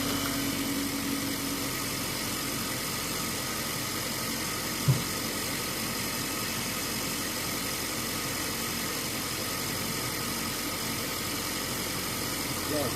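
A car engine, just started after a new battery was fitted, idles steadily with a low hum and a single sharp click partway through.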